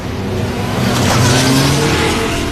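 A car rolling over nuts placed on a busy city street, with close, loud broadband road and tire noise swelling slightly mid-way as it passes, over a steady traffic rumble.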